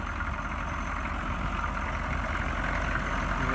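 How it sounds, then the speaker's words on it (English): A small diesel heater runs beneath a vehicle's hood during winter camping, giving a steady, unbroken low engine-like drone that holds at an even level throughout. "That's my tiny diesel heater."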